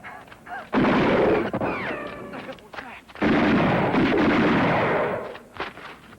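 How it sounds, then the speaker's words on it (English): Bursts of automatic gunfire crackle and echo in a wartime battle scene, two long loud volleys separated by a brief lull, with shouted voices in between. "I got automatic fire about 200 yards in front of me"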